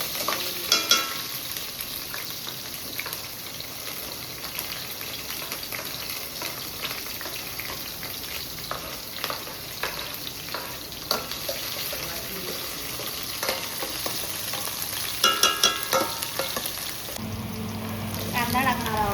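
Green chillies sizzle and fry in hot oil in a pan for an Uttara Karnataka puffed rice dish, a steady close crackle with occasional stirring scrapes and a brief water-like pour near the end.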